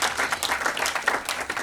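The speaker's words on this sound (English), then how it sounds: "a big round of applause for this big Lifetime Achievement" A quieter patter of audience clapping for a lifetime achievement award at a cricket honour event, brief and fairly soft, with individual claps audible in an uneven rhythm.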